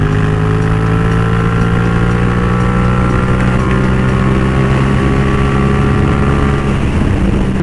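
A motorcycle engine drones steadily up close, its tone rising slowly as it rides along without pause for several seconds.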